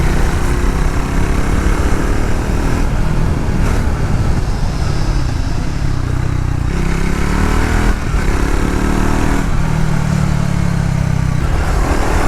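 A Triumph Tracker 400 motorcycle engine drones loud and steady throughout a ride, with shifting pitch as the bike changes speed and wind roar layered in, no voices present.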